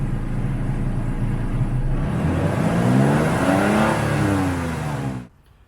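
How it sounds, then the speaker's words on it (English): A Toyota truck engine revs once, a close, loud roar rising and then falling away before cutting off abruptly into near silence, with no voices over it. "go ahead and gas it a little bit"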